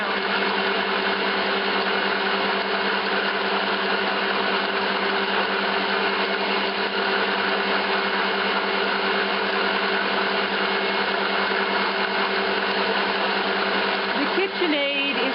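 KitchenAid and Magic Mill stand mixers whisking run with a continuous high motor whine and a steady mechanical hum, close and unchanging for the whole stretch, with a brief rattle near the end.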